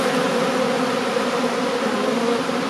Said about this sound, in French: ça fait un gros nuage d'abeilles, plutôt très joli